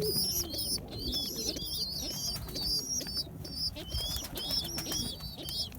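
Young homing pigeons coo in a loft while higher bird chirps and calls run through the whole stretch, a steady mix of low cooing and busy tweeting.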